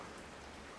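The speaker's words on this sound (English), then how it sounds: "So now it's still raining." Steady rain comes down hard on a rural property, a dense, even hiss of falling drops with no pauses and no voices.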